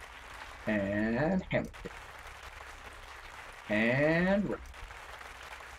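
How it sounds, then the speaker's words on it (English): Two short bursts of crowd applause erupt in a game, each lasting under a second, separated by a gap with a brief spoken remark in between. "I don't know what that did, but I got applause for it"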